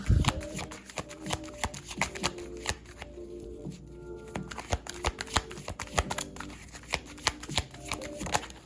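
Tarot cards shuffled close up, with rapid riffles and soft flicks of card edges in repeated bursts and a brief pause partway through.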